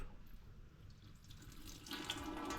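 Water is poured into the heat exchanger of a Demirdöküm Nitromix P24 boiler during cleaning, giving a faint, continuous splashing trickle that grows a little louder near the end.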